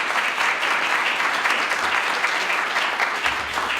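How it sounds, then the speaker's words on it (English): Audience applause at a city council candidate forum in Denton, dense steady clapping from a crowd filling the room, sustained without a break. "Can we give Eric and George a round of applause, please?"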